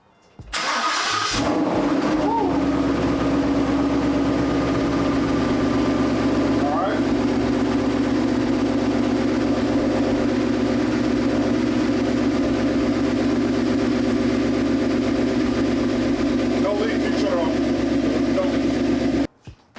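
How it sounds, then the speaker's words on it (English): A 2020 Ford Mustang GT engine turns over and settles into a steady, continuous idle with a low rumble, running alone close by for about twenty seconds. "start the car for about 5 seconds, make sure there's no leaks"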